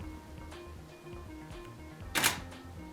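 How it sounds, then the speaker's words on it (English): A DSLR camera in bulb mode, fired by a remote, makes one brief, sharp shutter snap partway through, with faint clicks and a low electronic hum around it. "the idea of bulb is to open your shutter for as long as you press the button."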